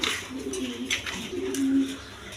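Lahori pigeons coo softly at close range in a pigeon market, low throaty murmurs in a few short rolling bursts over faint background noise.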